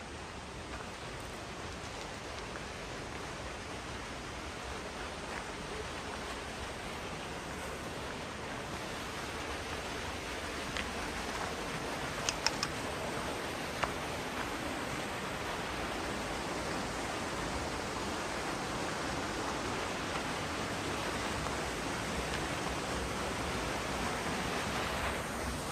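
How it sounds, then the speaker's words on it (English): A natural waterfall rushes outdoors, a steady, dense roar of falling water that holds even and unbroken throughout, with no voices over it. "We reached to waterfall."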